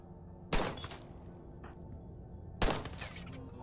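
Gunfire in the zombie survival mod of RimWorld: two short, sharp bursts of shots about two seconds apart, fairly faint and distant, with a quiet background between them.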